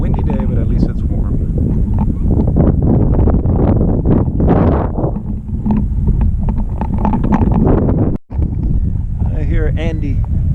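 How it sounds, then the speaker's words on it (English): Wind gusting on a warm, windy day while kayak fishing near Ozello, with steady buffeting noise on the microphone running under near, continuous talking throughout. "It's a windy day, but at least it's warm."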